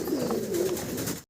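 A large pigeon on a farm gives one soft, low, rolling coo close by, lasting about a second.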